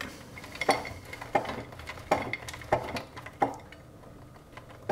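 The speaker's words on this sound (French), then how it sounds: "On va râper le Gouda." A block of Gouda cheese rubbed against a grater in a kitchen, heard as five evenly spaced scraping strokes about two-thirds of a second apart, each with a faint metallic ring, close and moderately quiet.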